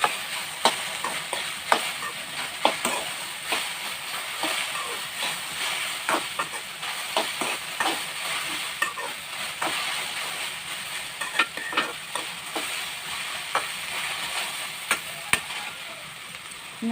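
Okra and other vegetables stirred with salt in a hot frying pan, with a steady hissing sizzle beneath repeated scraping clinks of the spoon against the pan, close and continuous.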